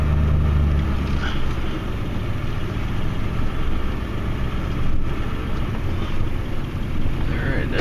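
Ford Super Duty F250 pickup with a Boss 8.2 plow running while snowplowing, a loud, steady low engine drone from inside the cab, continuous and close throughout.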